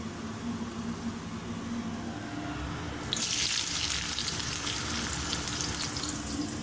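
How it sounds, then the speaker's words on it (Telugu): Onions and green chillies drop into hot oil partway through for egg puttu, and a loud, dense sizzle erupts and holds steady to the end, close up with no talking. "ఆయిల్ హీట్ అయిపోయిందండి. మనం ఆనియన్స్ మిర్చి అంతా వేసేసుకుందాము."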